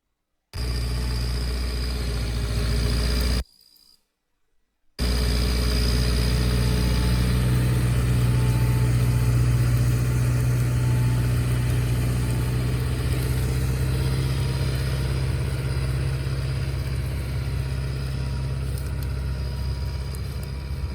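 A Farmer 10286 tractor engine running steadily with a deep, even rumble, close and loud, interrupted by a brief gap near the start before continuing.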